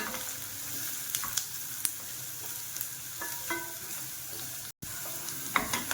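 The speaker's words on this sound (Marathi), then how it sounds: "कांदा चांगला आपला परतून झालाय। आता असा ब्राऊन होईपर्यंत परतायचा आहे याला चांगला।" Chopped onion is stirred in a pan until brown, a steady, soft frying hiss with occasional spatula taps and scrapes, briefly cutting out for a moment near the end.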